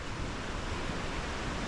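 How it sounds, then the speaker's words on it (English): A river running nearby, heard as a steady, full broadband rush of flowing water that stays constant and loud throughout, with no talk over it. "As we get closer to the river, I'm sure you can hear it."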